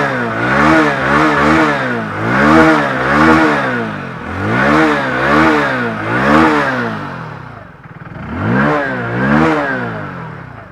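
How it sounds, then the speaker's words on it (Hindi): A Hero HF Deluxe Pro motorcycle engine revs repeatedly, with the throttle rising and falling in waves. A loud, close exhaust note settles briefly near idle before climbing again. "एग्जॉस्ट नोट सुनो। थ्रॉटल देता हूँ,"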